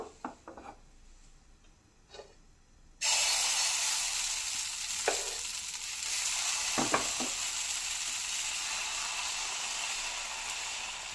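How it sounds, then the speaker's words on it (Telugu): Oats dosa batter poured onto a hot pan: a few quiet scrapes first, then a sudden loud, sustained hiss of sizzling close up, with occasional light scraping over the steady frying. "ఇప్పుడు దోశ వేసుకుందాం."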